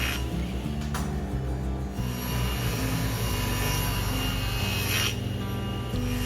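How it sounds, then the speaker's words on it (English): Table saw ripping cabinet side panels to final dimension, a steady loud whining drone with low motor hum running continuously throughout, no voices. "I rip the side panels to their final dimension on the table saw"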